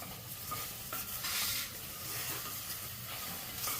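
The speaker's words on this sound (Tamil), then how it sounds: "எண்ணெய் ஊற்றி கொஞ்சம் உப்பு கல் போட்டு வதக்கணும்" Steady sizzling and scraping of okra being dry-sautéed with rock salt and stirred in a hot pan, continuous and close, with no talking.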